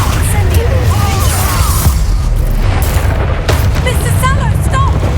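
Confringo explosive spell cast in the Hogwarts Legacy video game: booming blasts and crackling magical bursts layered over a dense, loud game soundscape, with voices calling out during combat.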